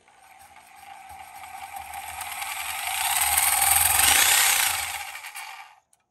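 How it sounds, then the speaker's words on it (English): A Sawzall reciprocating saw cutting through a control arm bushing shell on a 1972 DeTomaso Pantera, a loud, close, steady buzzing rasp that swells in the middle and stops abruptly near the end. "The next step, as I mentioned, we're going to take our Sawzall."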